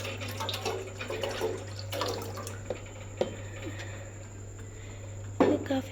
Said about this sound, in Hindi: काफ़ी पानी डालें